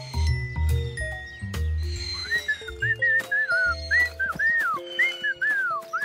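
Squeaky, wavering whistle tones, made by blowing into juice boxes, chirp repeatedly in short bursts over a light musical background.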